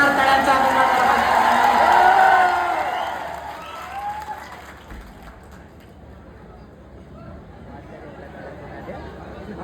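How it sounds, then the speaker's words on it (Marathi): A crowd at a public speech claps loudly for the first few seconds, then the applause fades into murmuring chatter and crowd noise. "जोरदार टाळ्यांचा गजर झाला पाहिजे."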